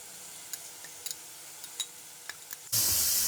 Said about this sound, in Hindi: अब हम गोश्त को 2 से 3 मिनट मजीद फ्राई कर लेंगे